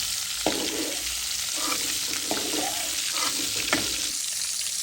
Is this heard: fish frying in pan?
yes